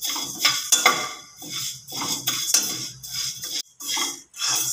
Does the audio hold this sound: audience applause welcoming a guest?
no